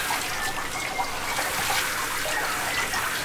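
Water splashes and hisses steadily from a hose or tap as an Australian Shepherd dog is rinsed during a bath, a continuous close spray with no talk.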